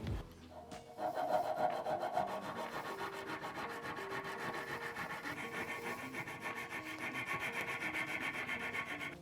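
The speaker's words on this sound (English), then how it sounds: "sometimes I was using this file to get going. This is a chainsaw file, and this is kind of worn" Worn chainsaw file rasping against wood, a steady run of quick back-and-forth strokes, close and clear, with no voices.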